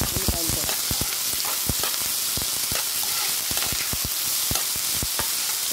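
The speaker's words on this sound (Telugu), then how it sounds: "ఇవి కూడా గోల్డెన్ బ్రౌన్ కలర్ వచ్చేదాకా చక్కగా వేయించుకున్నాం ఉల్లిపాయలు." Onions fry in hot oil until golden brown, giving a steady close sizzle broken by frequent sharp crackles and spatters, with no talking.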